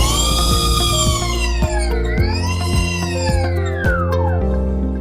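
A Gogoro Pulse electric scooter runs with a Continental drive belt fitted at lower tension, producing a loud, continuous whine that bends up and down in pitch above a low drone, with scattered light clicks.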